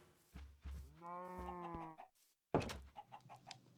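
Cows low in the blocky game Minecraft: a few short grunts, then a long drawn-out moo, a pause, and a burst of rustling farm noise afterward.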